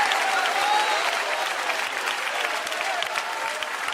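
A church congregation applauding during a sermon, sustained dense clapping filling the room at a steady, fairly loud level with no talk over it.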